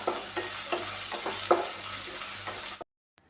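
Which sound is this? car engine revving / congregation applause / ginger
ginger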